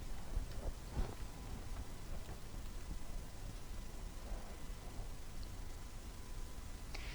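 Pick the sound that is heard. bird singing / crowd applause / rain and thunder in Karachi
rain and thunder in Karachi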